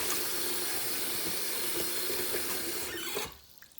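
Kitchen tap water running in a steady, close hiss while collard greens are rinsed, cutting off abruptly near the end to leave near silence.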